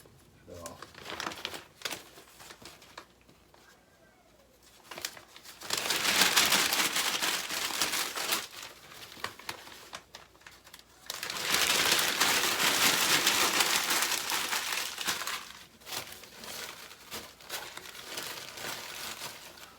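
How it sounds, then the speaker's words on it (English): Newspaper sheets being crumpled by hand into balls for fire starters at a wood and coal stove, with bursts of loud, close crinkling and rustling between quieter pauses. "What I do is take the newspaper, crumble it up."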